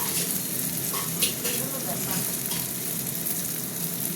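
Onions fry in a generous amount of hot oil, giving a steady, close, even sizzle that stays constant throughout.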